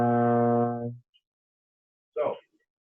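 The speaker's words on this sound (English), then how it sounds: "We get our B superlocrian scale" A B superlocrian scale played on an instrument sounds first as a sustained, fading tone, then a short muffled burst follows after a gap of silence.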